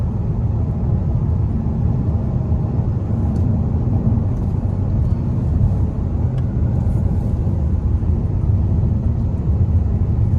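A Genesis G80 3.3t fitted with DIY intakes accelerates in sport mode, heard from inside as a steady, heavy low engine and road rumble that holds constant throughout with no voices.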